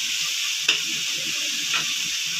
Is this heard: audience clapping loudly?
no